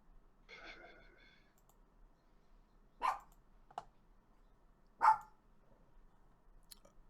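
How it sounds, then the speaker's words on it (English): A female pet dog gives a few separate, short barks and yips indoors, with long quiet gaps between them, fairly faint and with no one talking. "I have a dog here who is talking to me as if she wants to do something, like go out"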